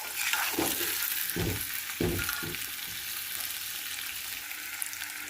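Potatoes roast in a pan over a medium flame, giving a steady close sizzle with a few scraping stirs near the start. No voices are heard.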